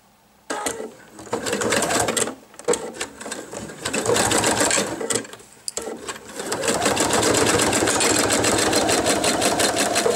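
Sewing machine stitching through thick fabric layers of a men's wallet along the long edge of the card pocket, running in loud, steady bursts separated by brief pauses, with no talking.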